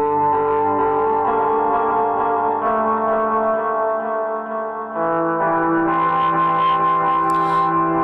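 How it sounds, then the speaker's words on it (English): Ambient guitar through a pedalboard, its resonant filter pushed into distortion so the sustained chords turn garbled and crushed, with effects and reverb swelling continuously and a brighter shift partway through. "you hear that resonant filter almost kind of distorting and getting garbled and crushed"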